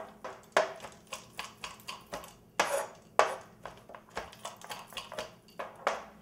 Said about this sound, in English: then you're just going to chop it up real fine